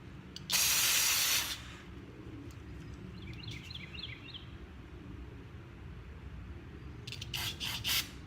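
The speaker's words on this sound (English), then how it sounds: "some carburetor cleaner into all of them, all the holes." Two short bursts of hissing carburetor cleaner spray into a Toro engine's carburetor holes, the first about a second long, the second later and choppier, with faint chirps in between.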